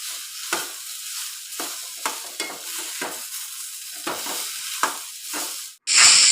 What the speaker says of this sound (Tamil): இந்த கடாய் சூட்லேயே தேங்காய் வறுப்பட்டுடும்